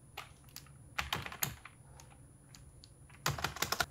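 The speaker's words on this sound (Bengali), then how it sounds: "আপনাকে আরও কিছু ডিসক্রিপশন এখানে লিখতে হবে" Close computer keyboard typing of a video description comes in quick bursts of key clicks with a quieter gap in the middle, soft and nearby with no voices.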